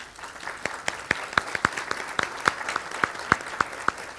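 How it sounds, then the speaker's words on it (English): Applause from a healthcare summit audience honoring an organizing team, with sharp, distinct claps standing out against a softer background of clapping, moderately loud and steady for several seconds. "So if you'll give them a round of applause"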